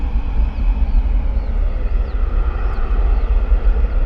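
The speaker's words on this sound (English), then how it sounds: "Gonna catch our next departure, EasyJet A320." An EasyJet Airbus A320 departs Bristol Airport, its jet engines producing a loud, sustained low roar with steady broadband noise and faint sweeping whine, continuous throughout without voices.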